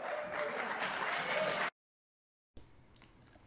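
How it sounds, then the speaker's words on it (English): Audience at a DSA event with Linda Sarsour applauding and shouting, a loud burst of claps and cheers for under two seconds, then silence and faint lingering room noise. "people are shouting, they're clapping"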